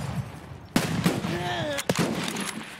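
Video game gunfire: sharp close shots in a few quick bursts, loud against a faint background, with a brief voice between them.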